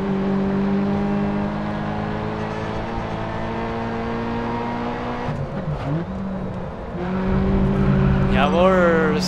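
Race car in the video game Grid Autosport, a continuous loud engine drone holding steady then dipping and rising as it revs up again, with a short squeal near the end.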